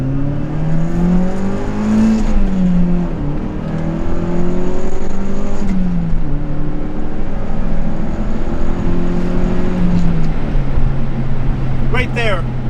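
A 2001 NB Mazda Miata engine revs hard through rising and falling pitch sweeps, loud and close, as the car is pushed during track driving, with a person talking over the engine noise.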